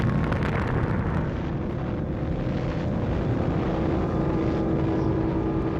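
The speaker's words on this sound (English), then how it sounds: "the first atomic bomb was detonated" The first atomic bomb detonates, rendered as a deep, sustained roaring rumble that stays loud and dense throughout, with no voices over it.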